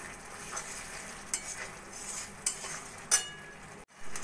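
Kashmiri chili powder and spices being sautéed in a pan for a vegetarian bora curry, a steady soft sizzle with occasional utensil clinks and stirring scrapes, close and fairly quiet.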